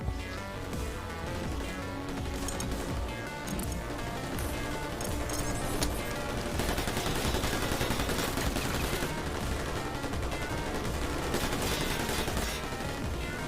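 Dense, rapid bursts of gunfire and overlapping shots in the Tales From The Borderlands video game, a chaotic continuous firefight mixed with game effects, loud throughout with no talk.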